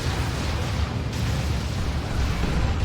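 Rocket run explosions in the video game Dawn of War 2, a dense, continuous rumbling roar of blasts that stays loud and steady for the whole stretch, with no voices over it.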